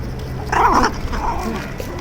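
A single dog bark or growling yelp, fairly close, over outdoor background noise.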